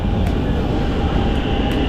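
A Barcelona metro train rumbles steadily and loudly from close by, a dense, continuous roar of wheels on rail filling the whole moment.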